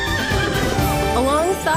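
A horse from the Disney Dreamlight Valley game's alpine ranch whinnies loudly over a dense orchestral music bed, with faint clip-clop hooves beneath.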